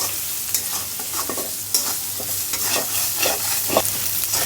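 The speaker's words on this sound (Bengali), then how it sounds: "বাটা রসুনের একটাই প্রবলেম, একটু ছিটাছিটি করতেছে দিক ওদিকে।" Garlic paste fries in a pan with a continuous crackling sizzle, spitting and splattering in irregular bursts while a spoon scrapes and stirs it close by.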